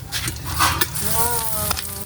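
Galunggong (round scad) fish fry in hot oil in a pan, giving a continuous crackling sizzle. A voice sounds briefly over it partway through.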